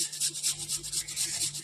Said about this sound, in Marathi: तर गोड किसून घेऊ.